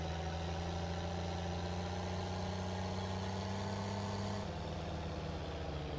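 Steady tractor engine idle in Farming Simulator 22, a low, even droning hum that runs throughout and shifts slightly lower in pitch near the end.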